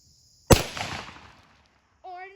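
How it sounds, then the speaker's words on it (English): A 20 gauge shotgun fires one round of special ammunition outdoors: a single sharp, loud report that rings out and decays over about a second, followed shortly by a brief voice. "I will shoot a special type of ammo."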